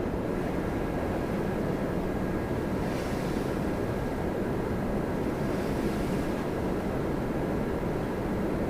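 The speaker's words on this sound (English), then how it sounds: "Look at that beautiful 777." A Boeing 777 airliner at Toronto Pearson gives a continuous, loud, broadband rumble with a windy, surf-like texture, swelling slightly in the middle and sustained throughout without speech.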